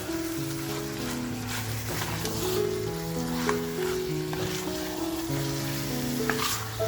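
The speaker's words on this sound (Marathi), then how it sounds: "आता छान हे मटण येणार आपल्याला फ्राय करून घ्यायचे" Mutton sizzles in a pan over a full gas flame, a steady rain-like frying hiss running the whole time beneath soft sustained musical tones.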